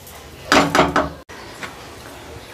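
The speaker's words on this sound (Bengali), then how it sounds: "এবার আমি চালটাকে ঢেলে নেব কড়াই থেকে।" Fried gobindobhog rice poured out of a wok, heard as three close bursts of grainy rattling and scraping in a row, followed by a brief silence and then faint clatter.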